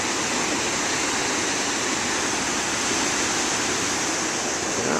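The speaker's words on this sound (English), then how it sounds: "The waves look pretty big." Big ocean waves breaking on shore, a steady, dense roar of surf and wash that stays loud and continuous throughout with no distinct separate breaks.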